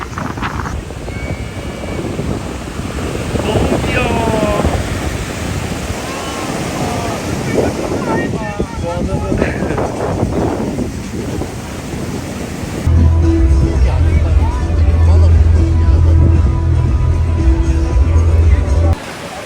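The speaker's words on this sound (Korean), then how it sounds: "한국에서는 이만큼 정도로 파도가 이렇게 세게 안 오는데" Strong ocean surf at Jimbaran beach in Bali, a loud continuous wash with wind buffeting the microphone and people talking. A steady engine drone comes in toward the end.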